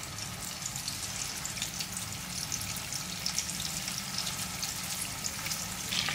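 Kachche qeema kebabs fry in oil with a continuous, even crackling sizzle, close and moderately loud, with fine popping spatter throughout and no talking.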